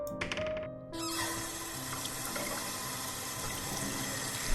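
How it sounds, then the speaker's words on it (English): Cold water splashing from a basin onto a face in the visual novel game Taishō Romance Theater, a brief clink then a sustained running, splashing wash of water, close and steady, with no talk. "As the cold water splashes my face"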